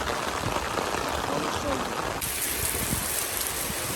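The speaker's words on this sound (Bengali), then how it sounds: "প্রচণ্ড জোরে বৃষ্টি হচ্ছে" Loud, dense rain pours steadily throughout over a wetland during fishing, a constant hissing roar with no pauses.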